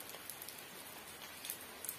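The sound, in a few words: heavy rain falling outside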